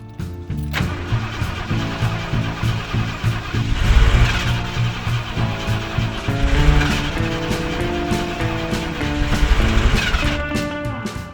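A classic truck engine cranks over and over as it tries to start, the starter whirring in long rhythmic bursts that swell and fade without the engine catching, loud and close with no talk.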